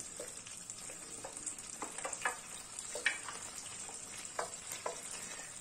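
Chopped onions fry in a pan for a pan-seared salmon dish: a steady close hiss of sizzling oil runs throughout, broken by scattered light crackles and soft stirring clicks, with no talking.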